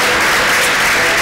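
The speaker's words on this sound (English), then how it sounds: "Yeah, we can clap." Congregation clapping in a church service, a short, loud, continuous burst of applause with no talk.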